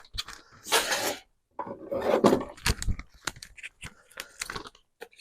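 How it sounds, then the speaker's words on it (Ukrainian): Crinkly rustling and tearing of a small packet of cinnamon being opened, in several bursts with short pauses, close by and moderately loud. "Кориця в нас ще запакована, зараз потрібно розпакувати."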